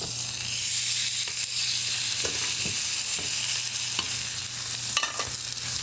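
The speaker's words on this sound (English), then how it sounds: "We're gonna get it super hot, give it a quick sear" A marinated grass-fed NY strip steak sears in a very hot cast iron pan, giving a loud, continuous close-up sizzle with crackling pops and occasional scraping, no talking.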